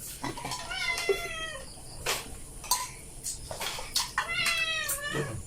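A pet cat meows several times indoors, rising-and-falling cries repeated at short intervals, fairly close, with faint household noise in between.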